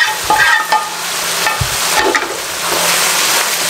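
Chicken jalfrezi stirred in a pan over high heat, a broad steady sizzle with a few scraping strokes and light clinks near the start, no voices.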